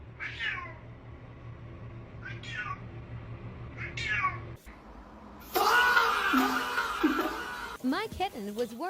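A worried kitten meows in short rising cries, about three spaced calls, near a running shower. Water then hisses loudly, and more meowing and a voice follow at the end.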